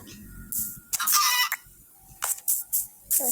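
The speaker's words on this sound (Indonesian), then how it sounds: "ini ada ayam ya." A chicken clucks in a horror video game, with a few short, loud, nearby squawking bursts broken by pauses of near silence.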